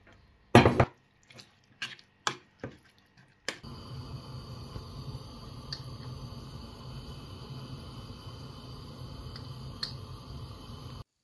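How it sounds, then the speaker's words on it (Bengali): Water poured into mashed lentils (dal) in a pot during simple Bengali home cooking. A few sharp clinks come first, then a steady, soft pouring rush that continues to the end. "মাখানো হয়ে গেছে, এবার হচ্ছে আমি জলটা দিয়ে দেবো।"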